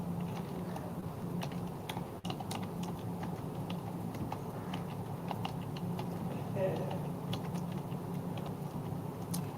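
Light tapping on a computer keyboard as someone types out a job description for a home-repair request, quiet and steady with scattered clicks under a low room hum.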